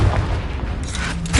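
A Confringo fire spell bursting in Hogwarts Legacy, a short heavy boom with a roaring blast tail, loud and close, ending in a second thump.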